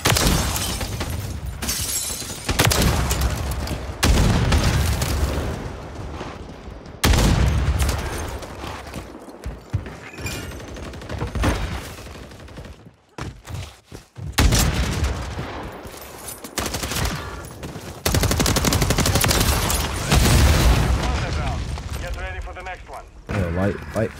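Video game gunfire from Call of Duty search and destroy rings out in sharp, loud bursts and single sniper cracks scattered across the round, mixed with game voice callouts and a player talking.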